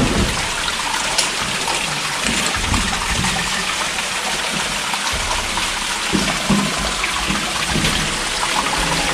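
Water flows and splashes through a dark cave passage in the Sistema De la Vega, Matienzo, a continuous close rushing trickle with scattered drips and small splashes.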